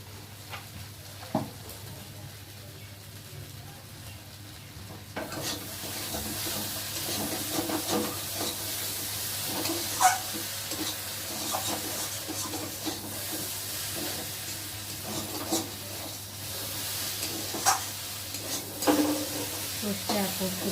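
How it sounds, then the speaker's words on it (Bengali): Mustard and poppy seed paste stir-fried in a pan for a kochur loti (taro stolon) dish, with a faint hiss that swells into a steady sizzle, broken by repeated spatula scrapes and knocks against the pan. "সর্ষে আর পোস্ত দিয়ে একটু কষে নিলাম"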